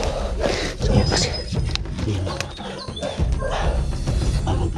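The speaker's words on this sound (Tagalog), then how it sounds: "Kasi hindi kami muna lulusog dyan kasi may aso." A dog barks and whimpers outdoors, its yelps and whines rising from a steady background of rustling and ambient noise, fairly close.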